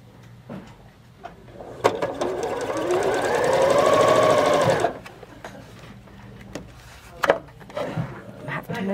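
A domestic sewing machine stitches quilt block pieces in one steady whirring run of a few seconds, with a softer start and stop, surrounded by quiet handling noises, fabric rustle and faint talk.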